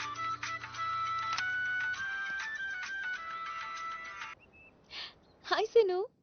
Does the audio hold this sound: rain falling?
no